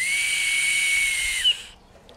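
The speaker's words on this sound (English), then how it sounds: "you can experiment with making different sounds by making different lengths of your whistle" A homemade May whistle carved from spring bark gives one sustained, shrill, steady tone lasting about a second and a half, then cuts off, leaving near silence.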